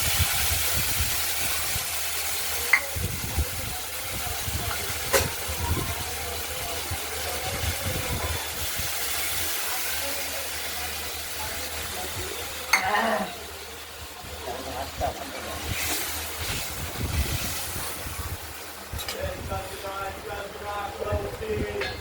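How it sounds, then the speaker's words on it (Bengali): Ground spice paste with turmeric hisses and sizzles as it fries with potatoes in a pan, with scattered scraping clicks from stirring and a voice talking nearby over the steady frying noise. "মশলাটা দিয়ে নাড়াচাড়া করে দিলাম কষানোর জন্য।"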